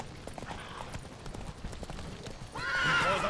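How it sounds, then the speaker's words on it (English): Horse hooves clip-clop at a gallop in The Witcher 3, a steady rhythmic patter of hoofbeats that ends in a loud, close neigh. "I'm on a horse."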